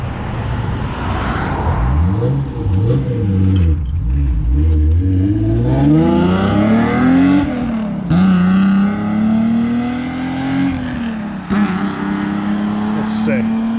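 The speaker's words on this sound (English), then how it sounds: "I like that Volkswagen too. That downshift. And it's got that raspy tone, but it's not obnoxious either." A Volkswagen car downshifts and revs with a raspy exhaust, engine pitch dipping and climbing repeatedly, close and loud, with people talking over it.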